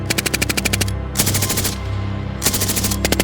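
Belt-fed machine gun firing three rapid bursts of several rounds each, with short pauses between them, loud and close with a ringing echo after each burst.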